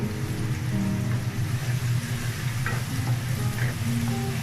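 Tuna fish curry with onions and sliced green chillies sizzles steadily in a pan on medium heat, a close, continuous frying hiss broken by a few soft scrapes of stirring.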